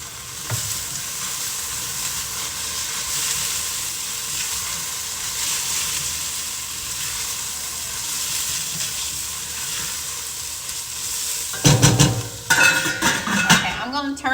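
Vegetables sizzle and fry steadily in a pot for chicken and dumplings, a continuous close crackle that turns into louder clinks and stirring clatter near the end.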